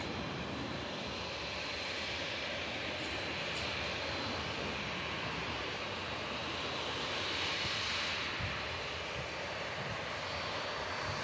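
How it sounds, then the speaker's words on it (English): A TUI Dreamliner taxis at Manchester Airport after landing from Cancun, its jet engines giving a steady, broad, continuous roar at moderate distance, with no voices. "Taxiing in the TUI Dreamliner that's just landed in from Cancun in Mexico."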